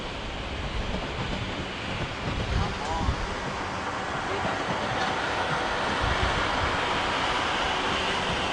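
A Gatwick Express train passes through Clapham Junction station, a broad steady rushing roar of wheels and motion that swells slightly toward the end, heard from the platform with some faint nearby voices.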